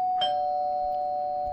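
A doorbell sounds a single sustained electronic chime tone, clear and steady, ringing out alone with a soft tap near the start.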